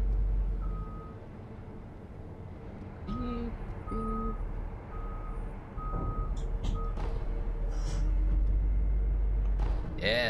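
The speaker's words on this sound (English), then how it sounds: "Let's wait until this garbage truck passes by." A garbage truck rumbles past up close, its steady reversing beeps repeating in an even rhythm over a heavy low engine drone that grows louder toward the end.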